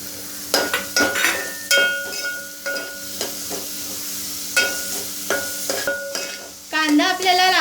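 Onions and green chillies stir-frying in oil in a pan, a steady soft sizzle broken by repeated scraping stirs, with a brief clatter near the end.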